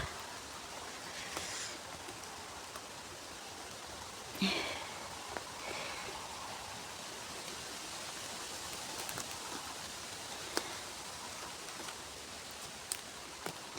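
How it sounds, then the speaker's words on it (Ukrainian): Steady outdoor rain falling harder, a constant soft hiss of drops on grass and surfaces with occasional sharper taps and a brief rustle, heard alone without talk. "Ай, дощик сильніше йде."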